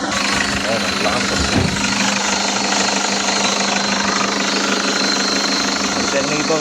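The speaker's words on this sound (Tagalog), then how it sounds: "Alternator bearing yan." A Toyota Hiace van engine runs with a worn alternator bearing, giving a loud, constant rattling whine and knock over the engine hum, with people talking nearby.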